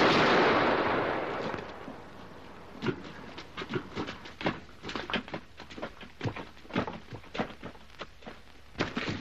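Musket volley from a firing party in a 1946 period film: a loud, broad blast that slowly dies away, followed by a scatter of sharp cracks and thuds at uneven intervals.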